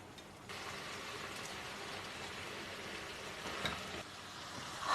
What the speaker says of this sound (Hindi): हाई फ्लेम पर गोश्त को भूनते हुए तकरीबन 5 मिनट हो गए हैं।